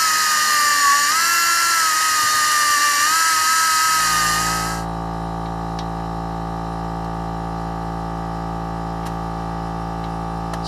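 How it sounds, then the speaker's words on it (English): A power tool grinds down a Jeep TJ Wrangler's differential bolts with a loud, steady high whine for about four seconds, then drops off into a lower running hum. "So I'm gonna have to grind these down so I can get a socket on it"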